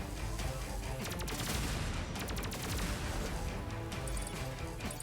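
Dense, continuous gunfire from the side-scrolling Terminator 2D: NO FATE video game, rapid overlapping shots in bursts over a loud, busy background of game effects and music, with no speech.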